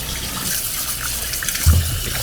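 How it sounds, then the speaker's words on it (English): Water runs steadily over cracked eggs in a bowl, a continuous close splashing wash that fills the whole moment, with a brief low thump near the end. "we add all the cracked eggs to this bowl and just give it a good rinse"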